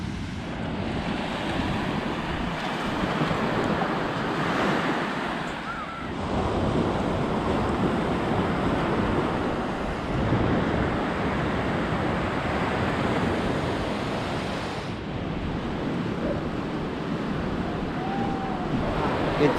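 Ocean surf on Morjim beach in Goa, a continuous roar of breaking waves swelling and easing over time, mixed with gusty wind buffeting the microphone, loud and close throughout.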